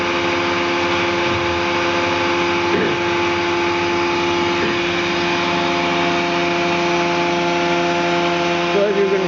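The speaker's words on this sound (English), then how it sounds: "Planer and saw both working together" A saw bench and a planer run together off a double belt drive, giving a steady, loud mechanical drone with belt and blade whine throughout, a few brief bumps along the way.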